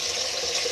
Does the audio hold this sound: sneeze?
no